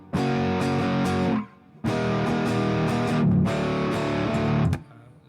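A guitar tuned to 19-tone equal temperament strums heavily distorted chords, three long sustained blasts separated by brief gaps, loud and thick with buzzing overtones, with no talk.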